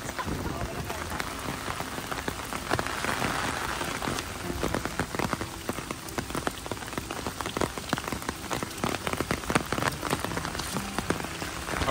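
Heavy rain patters steadily and closely on pavement and an umbrella along a Tokyo walking street in gusty wind, a dense, even drumming with no talk over it.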